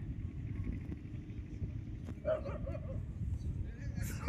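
A dog on Mandarmani beach gives a few short barks and yips over a low rumble of surf, and a person's voice is also present.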